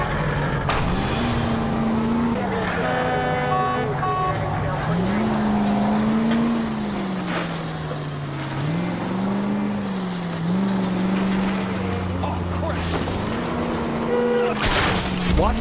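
A car driven in L.A. Noire hums with a steady engine drone whose pitch wavers up and down as it shifts and accelerates, loud and continuous with faint background music tones above.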